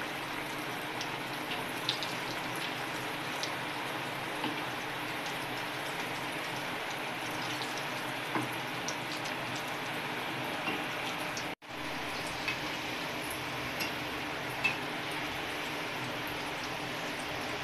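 Steamed gram-flour vadi rolls sizzle while frying in hot oil, a steady fine crackle and hiss at moderate level, with a few soft clicks and one brief dropout partway through.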